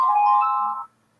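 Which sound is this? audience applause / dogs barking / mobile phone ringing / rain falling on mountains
mobile phone ringing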